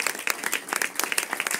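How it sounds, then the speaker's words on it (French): Brief burst of audience applause at an audio description awards ceremony, many hands clapping briskly and fairly close. "Applaudissez-le."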